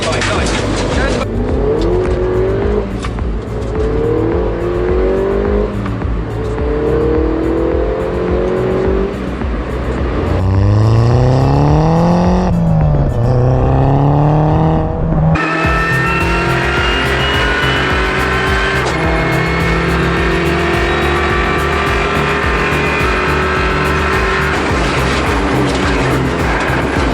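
A performance car driven hard down a twisting country road, its engine loud and close, rising and falling in pitch through revs and gear changes with a steady road roar underneath.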